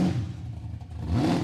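A loud Ford XC street machine at a V8 muscle car show, its engine rumbling and revving up nearby, swelling again toward the end.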